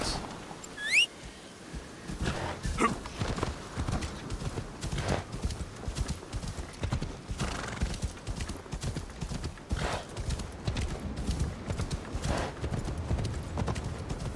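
Horse hooves clip-clop at a steady gallop while a rider travels in a video game, a continuous close rhythm with a brief whinny near the start and faint voices underneath.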